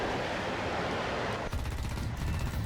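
Rapid cannon fire from a Mirage 2000C in a flight combat game, a dense sustained rattle of bursts that starts abruptly partway through over steady engine roar.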